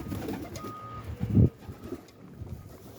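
Young pigeon with feathered feet giving a soft, low coo close by amid faint background noise and handling sounds.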